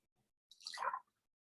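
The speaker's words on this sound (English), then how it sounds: "it prevents you from having to lift and pour the kettle of hot water" Hot water pours from a kettle into a cup for about half a second, a soft hissing trickle that rises then stops, quiet and close against near silence.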